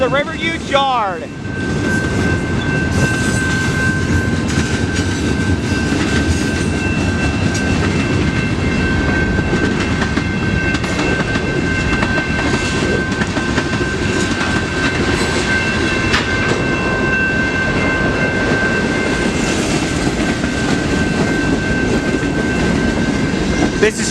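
A Norfolk Southern mixed freight train with boxcars loaded with steel coils rolls past the Mill Street railroad crossing in Ecorse, Michigan, a loud, continuous rumble with rhythmic wheel clatter and a steady crossing-bell tone throughout.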